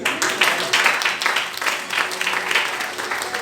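A church congregation applauds in dense, rhythmic waves of clapping, fairly close and steady, with a low sustained keyboard tone beneath.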